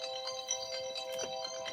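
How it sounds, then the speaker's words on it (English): Mobile phone ringtone playing faintly, a short tonal electronic chime with steady pitched notes over quiet room noise. "sorry, my phone was ringing"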